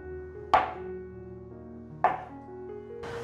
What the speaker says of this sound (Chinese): 把豆腐切片。